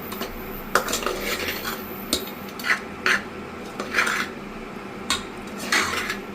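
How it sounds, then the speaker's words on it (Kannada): Puliyogare mixed with coriander leaves in a pot, a ladle scraping and clinking against metal in irregular strokes, close and clear with a quiet background. "ಕೊನೆಗೆ ಹೀಗೆ ಲಾಸ್ಟಿಗೆ ಕೊತ್ತಂಬರಿ ಸೊಪ್ಪು ಹಾಕೊಂಡು ಮಿಕ್ಸ್ ಮಾಡ್ತೀವಿ."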